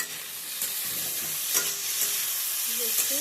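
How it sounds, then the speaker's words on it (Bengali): Spiny gourd mash with green chilies and garlic frying in a little oil, a loud, steady sizzle with occasional stirring scrapes throughout; no talking. "কাঁচা লঙ্কা দিয়ে হালকা ভেজে তুলে নেব"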